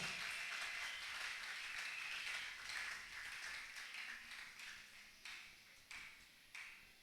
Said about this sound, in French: Si à la joie d'écouter la parole, on la manifeste par des acclamations.